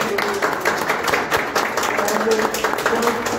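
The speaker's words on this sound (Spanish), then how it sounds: "Aplausos." An audience applauds at an award ceremony as an honoree is called forward: steady, dense clapping from many hands, fairly close and loud, holding evenly throughout with a faint voice beneath.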